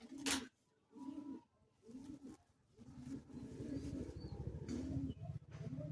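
Teddy pigeons, a breed kept and sold in Kolkata, give several distinct low coos in pulsing bursts, close and clear, followed by a steadier rumbling coo with faint background noise.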